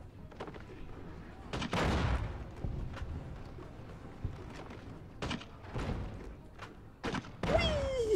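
Explosions and gunfire from the modded video game Fallout: New Vegas hit in several sharp, separate bursts a couple of seconds apart over a quieter game backdrop, with a voice talking at times.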